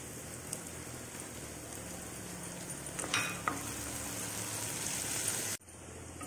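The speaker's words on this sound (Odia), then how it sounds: "କିଛି ସମୟ ଭାଜି ହୋଇଯାଇଛି ହଳଦୀ ପାଉଡ଼ର ସହିତ" Onions and turmeric powder fry in a pan for poha upma, giving a steady, close sizzle with a couple of sharp stirring scrapes midway and a brief drop near the end.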